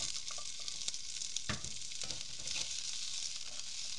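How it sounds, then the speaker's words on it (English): Capsicum and onion sautéing with ginger, garlic and green chilies for street-food Gobi Manchurian, a steady loud sizzle with brief stirring and tossing clatters throughout, no voices. "And then the capsicum and the onion go in."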